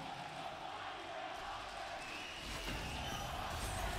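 An esports arena crowd cheers during a League of Legends match at MSI 2023, a broad continuous roar that swells slightly toward the end, heard at a distance and fairly faint.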